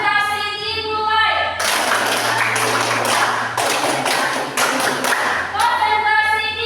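Children's group clapping game, tepuk konsentrasi, in a classroom: after a spoken lead-in, a burst of rhythmic unison hand claps runs for several seconds close and loud, with voices chanting over it, then talk resumes.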